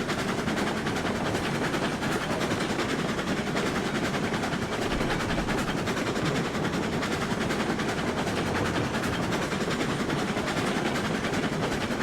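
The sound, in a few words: locomotive running on rails in video game Railroads Online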